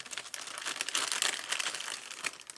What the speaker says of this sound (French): je vais le découper précieusement en essayant de ne pas faire de bruit. Pour vérifier, je coupe avec ce ciseau